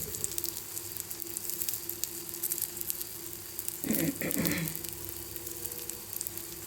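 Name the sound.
oil sizzling on frying handvi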